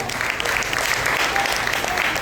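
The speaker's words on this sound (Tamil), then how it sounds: "காவாளம் ஸ்ரீகுமார் அவர்களுக்கும் ஒரு பலத்த கரகோஷத்தை வழங்கி பாராட்டுகிறோம்" Audience clapping at a Hindu temple mango festival, a dense, even wash of applause from a large crowd, loud and sustained for the whole stretch.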